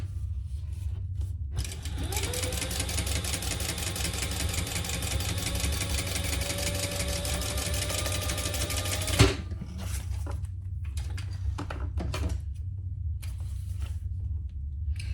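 Sewing machine top stitching a leather pouch, running steadily with a rapid mechanical rattle for about seven seconds, then stopping abruptly with a sharp click, leaving faint intermittent handling noises.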